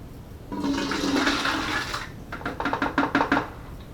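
Nearly two litres of pulpy pomegranate and grape mash pours into a pan in a thick gushing stream, followed by a series of wet glugging splats as the last of it slops in, close by.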